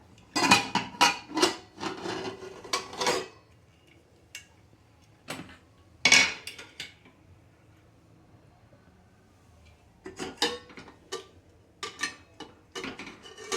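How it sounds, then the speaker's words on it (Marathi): A cooled pressure cooker has its lid lifted off and then the plate inside removed after steaming kharvas, giving several sharp metallic clanks and rattles in bursts separated by quiet pauses, with no talk. "कुकर थंड झालाय आता आपण याचं झाकण काढून घेऊया"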